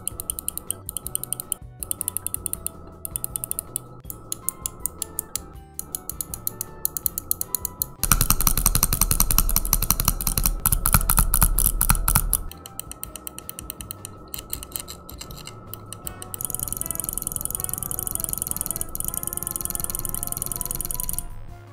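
Stormbreaker ergonomic gaming mouse clicked in a sound test, sharp close clicks first spaced out, then in rapid bursts and a long dense run of fast clicking, with no talk.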